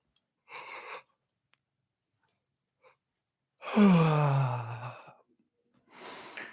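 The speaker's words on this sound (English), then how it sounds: "full body yawn stretch" A person doing a full-body yawn and stretch: a short breath, then a long voiced yawning groan that trails off, followed by another breathy exhale, near and otherwise quiet.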